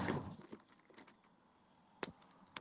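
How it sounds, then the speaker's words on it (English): Keys jangling while someone tries to open a basement door: a rattling metallic burst up close at first, then a quieter stretch and two sharp jingling clinks near the end. "now my keys are acting up"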